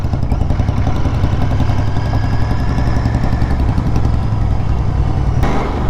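Royal Enfield Bullet motorcycle engine on a road gives a loud, continuous low thumping rumble with rattling, staying steady throughout with no talk.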